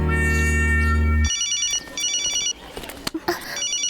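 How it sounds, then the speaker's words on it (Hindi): A mobile phone rings loudly with a sustained tonal ringtone for about a second, then gives way to repeating electronic chirping beeps amid clattering noises and indistinct voices. "वो मेरा फोन है।"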